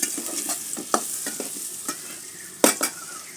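Potatoes frying in hot oil over a high flame, with a close sizzle broken by clattering stirs and scrapes at irregular intervals, including one sharp loud knock near the end.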